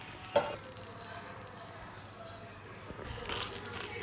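A chicken roll wrap of maida batter cooking on a pan like a dosa, giving a faint, soft sizzle with a few light clicks and scrapes.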